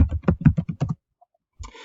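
Quick, fairly close typing on a computer keyboard: about eight crisp keystrokes in an uneven burst, then a pause and a short, faint clatter at the end.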